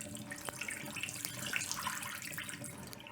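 Dried fava beans being rinsed by hand in water at a sink, a steady running and sloshing wash with small splashes, fairly close and moderate in level, no voices.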